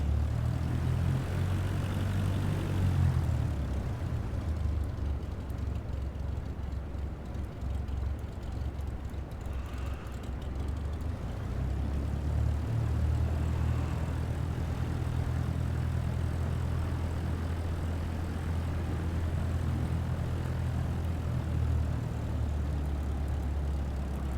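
Propeller aircraft engine in Microsoft Flight Simulator 2024 runs steadily and loud, with a low droning hum that holds on without pause and no talking.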